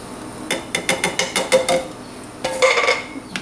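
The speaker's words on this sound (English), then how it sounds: "adding the last of the vegetables here" Vegetables tumble into a pot of beef stew: a burst of quick metallic clanks and knocks against the pot, a short pause, then a second cluster of clinks, close and fairly loud with no talk.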